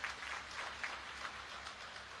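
A crowd at a political gathering claps to welcome Chief Minister Yogi Adityanath, a faint and distant patter of applause that holds at a steady level.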